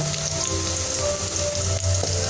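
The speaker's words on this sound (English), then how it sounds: "just like that, my onions inside my sufuria with oil, cooking oil" Onions frying in cooking oil in a sufuria, a steady dense sizzle with crackling pops throughout, loud and close with no talking.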